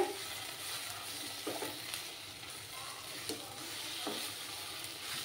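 Chicken and spices, including Kashmiri chili powder, frying in a pan for a ghee roast gravy: a quiet, steady sizzle with occasional soft stirring scrapes, close by with no talking.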